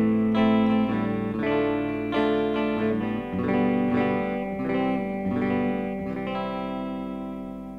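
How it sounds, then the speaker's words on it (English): A Casino electric guitar plays a sequence of sustained, distorted chords with effects and reverb, loud and alone, ringing out and fading toward the end. "Now it's a really lovely sounding guitar."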